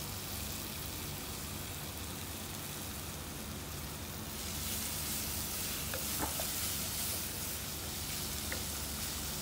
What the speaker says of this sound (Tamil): இந்த தக்காளி வந்து நல்லா மசையிற வரைக்கும் நல்லா வதக்கிடலாம்